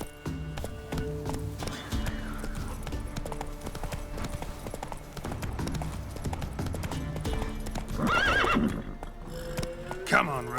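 Roach, a horse in The Witcher 3, trots with steady close clip-clop hoofbeats and gives a loud neigh near the end while someone speaks over the game sounds.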